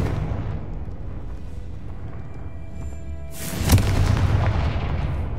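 Confringo spell explosion in Hogwarts Legacy: a deep booming blast hits partway through a rumbling game soundscape, then fades into a lingering roar.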